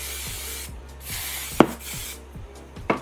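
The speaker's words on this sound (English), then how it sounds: "You need some hairspray so they really hold." Hairspray hisses from an aerosol can over freshly curled hair in a few short, airy bursts with brief pauses, alongside a couple of sharp clicks or taps.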